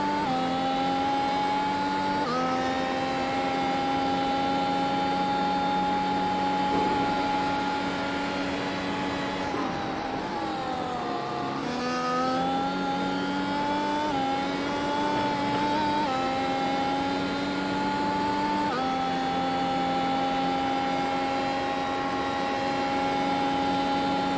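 A Mercedes W12 Formula 1 car in iRacing at Monza gives a loud, continuous high-pitched engine whine that holds steady, dips briefly as it downshifts, then climbs again through the gears, with no talking.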